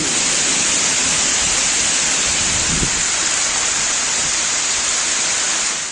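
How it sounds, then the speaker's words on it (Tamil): Heavy rain driven by strong wind pours down across Thanjavur district, Tamil Nadu, a loud, unbroken roar of water hissing evenly throughout. "தஞ்சாவூர் மாவட்டத்தில் பல்வேறு பகுதிகளில் சூறைக்காற்றுடன் கனமழை வெளுத்து வாங்கியது"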